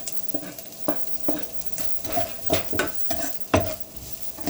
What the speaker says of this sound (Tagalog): Pag mainit na ilagay na natin yung bawang, aluin lang natin ng konti tapos ilagay na natin yung carrots